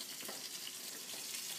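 Salmon hitting a skillet of smoking-hot oil, giving a steady, dense sizzle and spitting hiss that runs evenly throughout at close range, with no talking.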